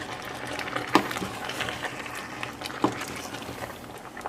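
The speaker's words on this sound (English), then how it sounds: "Lower the heat down again because now it's boiling too much." Vegan tikka masala sauce made with coconut bubbles in a pan on the stove, a soft, steady simmering hiss with a couple of sharper pops, fairly quiet and close.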